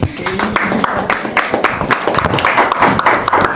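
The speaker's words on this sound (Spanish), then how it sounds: "Un aplauso" A small gathering at a church discipleship session gives brief, uneven applause, a few dozen hands clapping close by in loose, irregular bursts.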